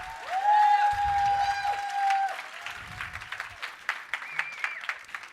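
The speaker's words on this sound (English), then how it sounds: "Give me a round of applause." A scattered round of audience clapping at a motivational success talk in Los Angeles, uneven and fairly sparse, mixed with a voice and other sounds early on that thin out into separate claps.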